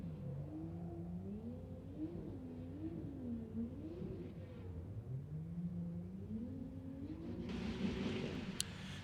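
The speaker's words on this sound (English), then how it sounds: "So Ula Yeager warms up his tires and heads over to the start line." A Formula Drift Pro 2 car at a Texas event revs up and down in smooth, repeated swells while warming its tires, heard from a distance and fairly faint, with a brief sharper burst near the end.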